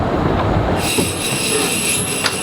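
A vintage compartment train on the Isle of Man railway squeals loudly on its wheels. The squeal is a steady high-pitched screech over a continuous rolling rumble, close and sustained, with no voices.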